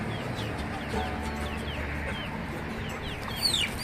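Chickens cluck and scratch around a coop yard in Tekirdağ, with a steady chorus of soft clucks and chirps at middle distance over busy farmyard noise and no talking.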